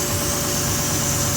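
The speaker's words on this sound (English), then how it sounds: "That whirring sound? It's either it's gonna be chains, maybe those guys, or cam phasers." Triton V8 in a Ford F-150 with low oil idling just after startup, a steady broadband whir that points to timing chains or cam phasers, continuous and close with no talk.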